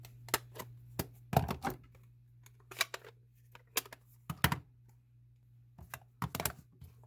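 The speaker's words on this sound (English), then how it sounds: "so I'm going to close up my ink" A stamp ink pad being closed after card stamping: a series of sharp, close plastic clicks and taps at irregular intervals, some in quick clusters, with quiet pauses between and no talking.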